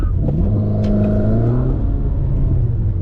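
A Ferrari SF90 supercar on a runway drag strip revs loud and close, its engine note climbing steadily in pitch as it pulls, a continuous roar with no talk over it.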